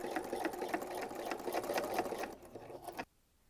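Close, steady whirring of a sewing machine stitching a seam on an oven mitt, slowing slightly before cutting off abruptly into near silence.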